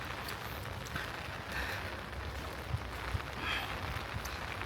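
Steady rain falling outdoors beside a breached reservoir dam in a flood-hit village near Nanning, Guangxi, a continuous hiss of drops with occasional heavier pattering close by.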